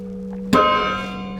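A single carillon bell at the Flèche Saint-Michel in Bordeaux, played by hand from the keyboard, is struck once and rings out with a bright decaying tone over a steady low hum.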